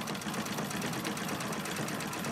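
A machine running at a steady pace after it is started by turning its hand wheel, a continuous, even rattling hum held close with a fast regular pulse and no break, and no talking.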